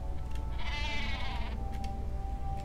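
A sheep in a StarCraft II custom game bleats once, a loud wavering cry lasting about a second over a steady background of game hum and tones.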